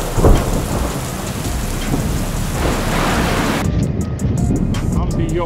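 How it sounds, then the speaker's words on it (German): Storm gusts from Hurricane Zeynep roar along the Cuxhaven North Sea coast as rain falls, a loud sustained wind rush that drops off abruptly near the end. "Könnt ihr hier sehen, es regnet ein wenig. Die Sturmböen sind mittlerweile so stark."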